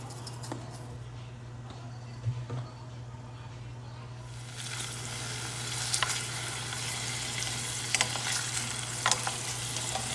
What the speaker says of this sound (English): A little bit of Italian seasoning on my garlic and my onions.